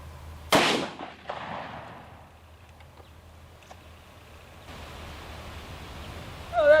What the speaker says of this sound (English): Now shooting a 223 VMAX bullet out of my Ruger American